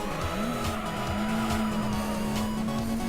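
Car tires squealing under hard braking in the Gran Turismo 3 racing game, a sustained skid tone over a loud race engine roar, continuous and close throughout.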